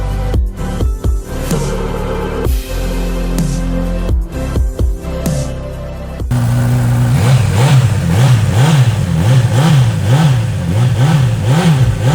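A 2020 Honda CB1000R Plus ABS motorcycle engine, loud and close, with blips of throttle and pauses in the first half, then a steady rising-and-falling rev cycle that repeats rhythmically until the end.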